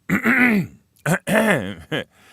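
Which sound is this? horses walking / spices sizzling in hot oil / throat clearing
throat clearing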